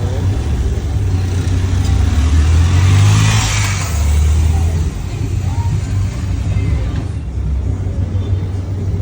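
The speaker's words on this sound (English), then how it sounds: "This is my car" A car engine rumbles loudly and steadily at close range, swelling briefly near the middle as though given some throttle before settling back to a lower drone.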